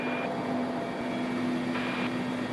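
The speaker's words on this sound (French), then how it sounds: "La météo exécrable oblige le pilote à se poser au cœur du volcan Semiatchik." Fixed-wing aircraft engine drone during a landing inside the Semiatchik volcano crater in Kamchatka, a steady close hum with a constant tonal whine running unbroken throughout.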